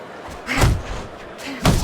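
Two heavy punches land in a Fight Night Champion boxing match between Roy Jones Jr. and Bernard Hopkins, each a short, loud, thudding slam, the second arriving about a second after the first.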